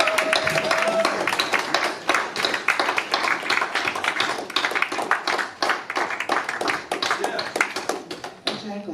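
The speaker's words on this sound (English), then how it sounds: "the applause shouldn't end" Audience applause at a poetry show in Austin fills the room with sustained, dense clapping from a crowd, steady throughout with a voice speaking briefly near the start.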